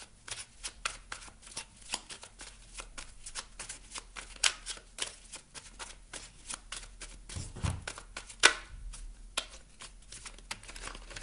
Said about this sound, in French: Je vais vous tirer une carte maintenant du petit oracle de la mission de vie.